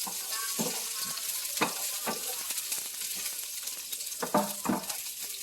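Garlic sizzles and fries steadily in a hot pan for a pork and bell pepper stir fry, with a continuous hiss broken by several sharp utensil clinks and scrapes against the pan.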